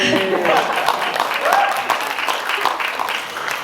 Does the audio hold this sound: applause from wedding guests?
yes